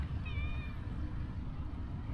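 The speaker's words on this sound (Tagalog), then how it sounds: "ang daming pusa dito" Outdoors among many stray cats, one cat gives a single short meow early on over a low, steady rumble of background noise.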